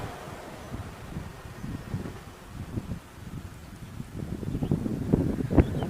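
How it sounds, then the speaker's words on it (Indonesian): Gusty wind buffets the microphone on a handheld selfie stick above an irrigation channel on a bridge, giving a steady low rumble with irregular thumps that grow stronger and denser toward the end. "Wow, ada angin yang lewat, jadi kameranya goyang-goyang ya."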